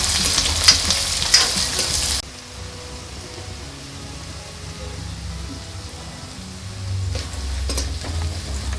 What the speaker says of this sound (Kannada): ಈರುಳ್ಳಿ ನೀಟಾಗಿ ಫ್ರೈ ಆಗಬೇಕು.